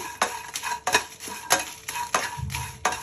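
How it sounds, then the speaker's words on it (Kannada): Dried red chilies and curry leaves are stirred in a warm pan, with repeated scraping and clinking strokes of a spoon against the metal over a faint sizzle, close and without talk. "ಈಗ ನಾನು ಒಣಮೆಣ್ಸಿನ್ಕಾಯಿ ಇದ್ದೀನಿ ಅದು ಕೂಡ ಬೆಚ್ಚಗೆ ಇದರಲ್ಲಿ ಹುರ್ಕೋಬೇಕಾಗುತ್ತೆ"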